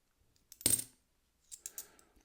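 Coins handled while being checked for errors, a short metallic clink followed a second later by a cluster of lighter jingling taps, close and quiet in a silent room.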